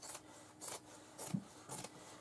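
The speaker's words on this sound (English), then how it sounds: "let's cut a piece of canvas that's the same size" Scissors slicing through a piece of canvas fabric for a sewn pencil bag, four short crisp snips spaced about half a second apart, close and fairly quiet with no talking.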